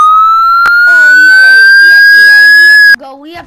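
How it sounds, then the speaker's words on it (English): Police siren in the Fortnite video game, a loud rising electronic wail held for about three seconds before cutting off abruptly. "Wait, you hear those police sirens?"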